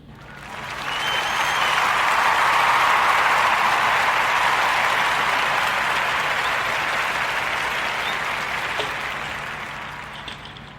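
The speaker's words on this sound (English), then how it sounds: "give a warm Narrative Podcast round of applause for our sister, Misty Copeland" A sustained wash of audience applause for ballet dancer Misty Copeland rises within the first second, holds thick and even for several seconds, then slowly tapers off near the end.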